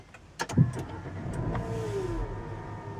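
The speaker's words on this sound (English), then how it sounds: "I'm going to start the car, and to do so you press the start stop button that's just there" A 2015 Nissan Qashqai 1.2 DIG-T with CVT is started by its push-button start-stop, giving a short clicky crank and catch, then a steady near idle hum.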